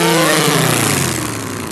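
A voice mimics an airplane with a steady, buzzing drone that holds loud and close, then slowly trails down and fades, on a children's television show.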